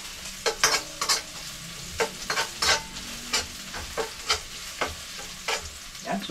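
Garlic frying in a pan for Bisaya-style humba: close, crackling sizzle punctuated by repeated scraping strokes of a utensil against the pan at an irregular, steady pace.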